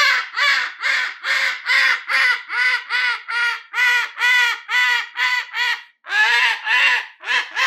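A pet bird squawks in a rapid, loud, harsh series of calls close by, nearly continuous with brief gaps, and no talking over it.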